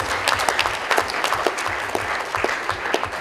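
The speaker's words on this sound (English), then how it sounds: "Please, can you give him a good round of applause?" Steady, dense applause fills a hall as an audience claps for a speaker at an annual public lecture series, continuous with no talking.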